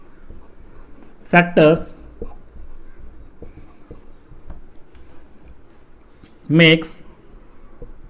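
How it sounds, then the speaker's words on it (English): A pen writes on a board or paper in a classroom-style lesson, giving faint, scattered scratches and taps. Short bits of a man's speech come through twice. "So that we will write all the above facts"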